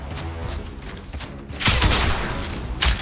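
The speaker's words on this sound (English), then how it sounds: "Shot fire. Pistol and SMG, okay." A few loud gunshot bursts from a pistol and SMG in the shooter game The Scrap punch through dense background game noise, one heavy cluster followed by a brief later shot.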